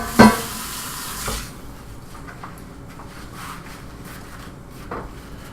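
Eggs cook in melted butter in a pan, with a steady soft sizzle close by and a few scraping strokes as they are stirred and pushed around.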